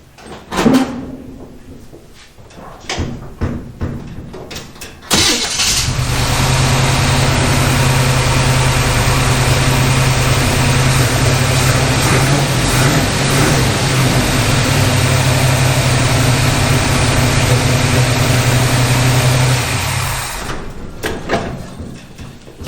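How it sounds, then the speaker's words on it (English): A 1951 Henry J car engine cranks briefly after some clunks, then catches and idles with a steady, loud rumble for about fifteen seconds before shutting off, followed by a few handling noises. "I'm going to crank it up real quick, see if I get oil pressure."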